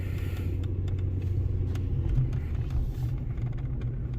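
A 2011 Ford Ranger 4.0 4x4 pickup truck driving through snow, a steady low engine rumble and drivetrain drone with faint clicks and tire crunching, heard from inside the cab without talk.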